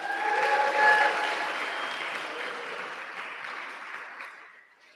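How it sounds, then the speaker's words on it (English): Audience applause for honorees at a Lupus Foundation awards and auction event, a broad steady clatter of many hands that peaks early and then slowly fades toward the end. "a round of applause for all of our honorees"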